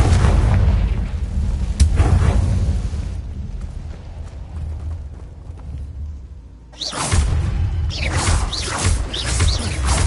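The Confringo blasting spell explodes in the video game Hogwarts Legacy: a loud, booming burst that rumbles and fades over several seconds, then another powerful blast erupts near the end, both heavy and close.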